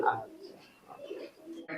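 A teddy pigeon gives soft, low, close coos in a brief, quiet run, with a louder voice cutting in at the very end.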